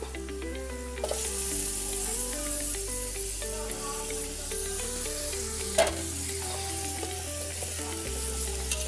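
Chopped tomatoes sizzling and frying in a pan for chicken curry, a steady close hiss with occasional stirring scrapes, under quiet background music and no talking.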